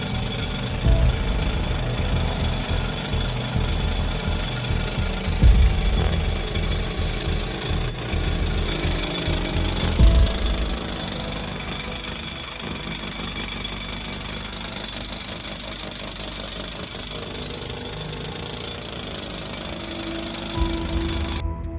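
A rock drill pounds continuously at a gemstone mining site, where miners bore holes in rock to pack with dynamite; the hammering is loud, dense and close, with no talk over it.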